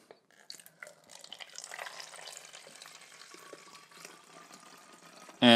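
Water poured into a container to mix a homemade vinegar all-purpose cleaner: a steady hissing, splashing stream building over several seconds, fairly close, with no talk.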